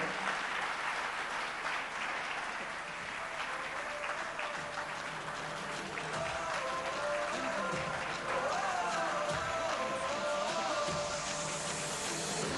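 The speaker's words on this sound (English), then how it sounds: "Can you give her a round of applause, please?" An audience at the Etisalat Prize for Literature ceremony applauds in a dense, steady wash of many hands that fills the whole stretch, with faint musical tones rising underneath toward the end.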